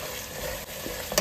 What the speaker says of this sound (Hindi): तो बेरेस्ता डालने के बाद मिक्स कर दूंगी अच्छे से।